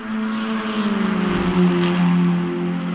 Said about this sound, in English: Listen to the engine noise.